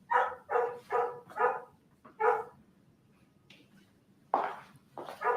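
Puppies barking indoors in an apartment: a quick run of five sharp barks, a pause with a faint whimper, then a few more yips and barks, close and fairly loud.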